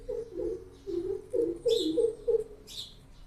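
Strange birds calling near a toilet in Gujarat, a series of repeated low cooing notes in a steady rhythm, joined by a few higher chirps, fairly close and clear.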